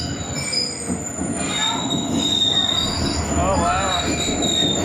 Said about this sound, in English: We're here for the train. This is it, it's coming.